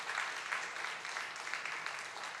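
A congregation at a Friday prayer meeting applauds in a steady, faint wash of clapping that holds evenly throughout without a clear start or end.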